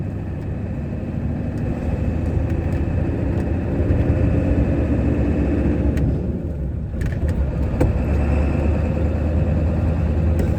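An OBS Ford Powerstroke diesel truck drives along, its engine a steady low rumble with a brief dip midway, close and fairly loud, no talking.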